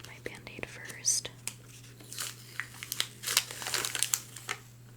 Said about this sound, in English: I'm going to unwrap my band-aid first.